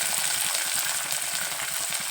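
Sabudana upma being mixed in a pan over a low flame, a steady soft sizzle with faint rhythmic scraping of the stirring, close and continuous, with no voices.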